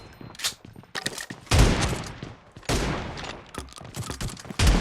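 Beretta S686 shotguns in a team deathmatch video game fire several loud, sharp blasts at irregular intervals with lingering booms, mixed with other gunfire and game noise.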